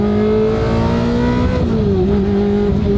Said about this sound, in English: Ferrari exhaust. Only reason to own a Ferrari, to be honest.